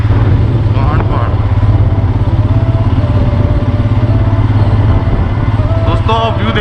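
A motorcycle runs steadily along a Himalayan mountain road near Mukteshwar, Uttarakhand, its engine drone loud and continuous with wind rush and occasional clatter, while people talk over it.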